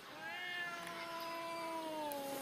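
A kitten gives one long, drawn-out, tonal meow that holds steady and then slowly falls in pitch. It is close and clear over faint background noise, with no talking.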